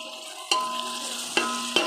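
Tomatoes drop into a hot pan of frying chicken biryani masala, giving a steady sizzle broken by three sharp stirring clatters, close up and with no voices.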